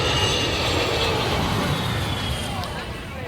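A plane coming in to land at St. Maarten over the beach, a loud roaring engine rumble that slowly fades, with voices faintly underneath.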